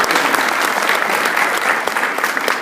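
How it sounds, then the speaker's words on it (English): A conference audience claps, dense and steady sustained applause from a sizable crowd filling the room, loud and close, with no voices over it. "Mr. Piesters, this is your applause."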